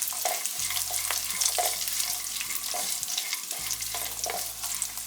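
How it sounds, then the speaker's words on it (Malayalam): Pistachios and raisins fry in ghee for a dry fruits payasam, with a steady crackling sizzle and repeated scraping strokes of a spoon stirring through the pan, close and continuous. "നമുക്കിത് ഫ്രൈ ചെയ്ത് എടുക്കുകയാണല്ലോ വേണ്ടത്, മൂപ്പിച്ചെടുക്കുകയാണല്ലോ വേണ്ടത്"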